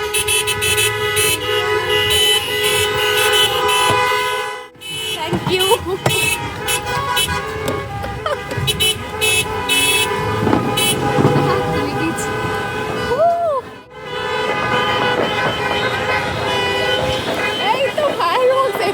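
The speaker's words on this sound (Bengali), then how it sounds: "এত হর্ন কানাডাতে আমি আগে শুনিনি কোনো দিন" Car horns honk repeatedly, some long and some short, in busy street traffic in Canada at New Year's Eve midnight. The honking comes from both near and far over a steady traffic rumble, with a few people talking in between.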